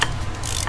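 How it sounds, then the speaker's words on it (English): Mechanical ratcheting clicks from a ratchet on a swivel extension, working on an Audi S4 B8.5 during engine removal; a short, close, steady run of rapid clicks. "the ratchet was out in a swivel extension"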